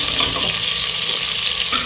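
Finely chopped onion fries in hot tempering oil for a ghee rice and vegetable kurma, producing a loud, dense, continuous sizzle close up with no talking.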